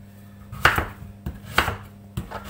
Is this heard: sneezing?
no